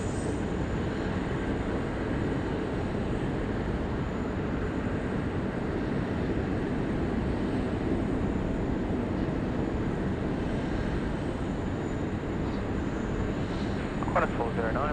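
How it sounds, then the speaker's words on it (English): Airbus A330 airliner landing at Sydney Airport, a steady, loud jet engine roar that holds unbroken throughout, heard from the distance of an outdoor observation spot. "the A330 landing like a ski jumper"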